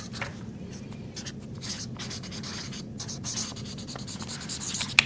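A pen writing the word January across a bullet journal page, with faint, close scratching strokes in short bursts against a quiet background.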